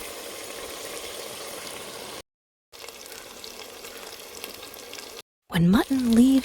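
Mutton sizzles and fries in hot oil with ginger and green chili paste for a Pakistani mutton korma, a steady crackling hiss broken by two brief silences before louder stirring and spattering at the end.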